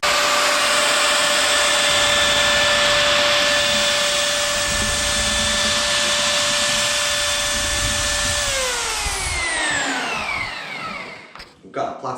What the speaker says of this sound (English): We're also going to need a bucket to mix the plaster in with, a mixer, and obviously the plaster.